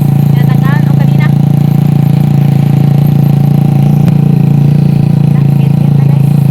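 A motorcycle engine runs steadily up close, a loud, even mid-pitched drone that continues without a break while a person talks over it.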